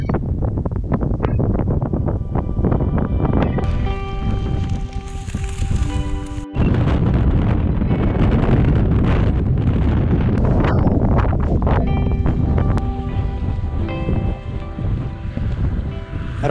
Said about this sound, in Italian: sempre vento forte, contrario